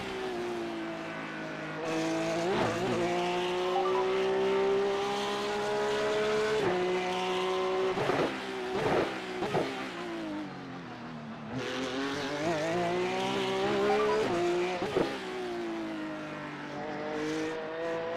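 A Porsche Cup 992.2 in the iRacing sim revs hard and climbs through its gears, with a steady engine whine broken by sharp downshift blips and gear changes across a long continuous run, heard alone with no talk.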